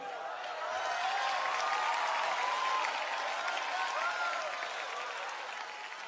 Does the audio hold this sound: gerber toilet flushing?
no